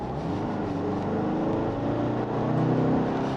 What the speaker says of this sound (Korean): 자, 다음은 스포츠 모드를 한번 해보겠습니다.